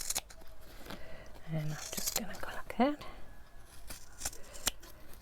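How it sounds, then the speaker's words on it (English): Sharp scissors snipping through calico fabric, several close crisp cuts in a quiet indoor craft setting, with a soft voice speaking between them. "these are the best scissors, they go through everything"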